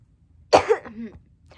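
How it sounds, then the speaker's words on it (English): A single close, harsh cough from a person with a cold, followed by a short throaty rasp, then quiet. "I have a cold, so sorry if there's coughing"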